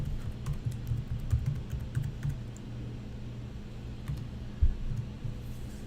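A password is typed on a computer keyboard, with quiet, uneven bursts of key clicks over a low steady hum. No one speaks.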